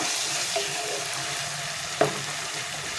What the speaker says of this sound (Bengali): শুকনো লঙ্কা আর গোটা জিরে আর বড় এলাচের টুকরো আর দিয়ে পেঁয়াজ দিয়ে ভাজা ভাজা করছি